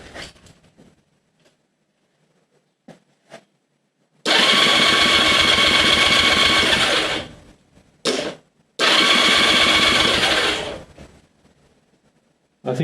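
Honda CB250 motorcycle engine being kicked over: two bursts of loud, rough, pulsing mechanical clatter lasting a few seconds each, separated by a brief stutter, with quiet gaps and a few faint knocks before the first attempt.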